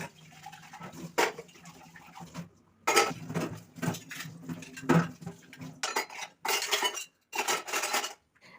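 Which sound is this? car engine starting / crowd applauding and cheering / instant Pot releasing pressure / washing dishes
washing dishes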